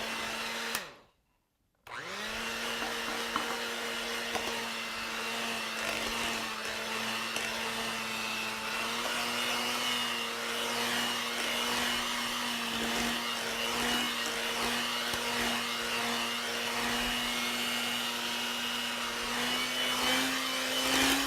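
Electric mixer steadily beating New York style cheesecake batter, a continuous motor whine with a steady hum that starts after a brief pause near the beginning and runs on at an even, moderately loud level with no talking.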